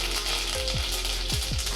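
Curry leaves hit hot oil with a close, continuous sizzle and a few sharp spitting pops, a busy frying hiss with no talking over it.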